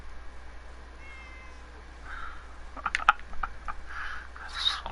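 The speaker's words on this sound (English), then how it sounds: "We found the cat." A cat in a PS4 video game meows a few times, short close cries over a faint steady background hum, with no talk during them.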